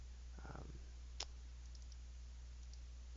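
A single crisp mouse click on a computer while importing a file into Shopify, short and close against a quiet background hum, with a faint soft knock just before it.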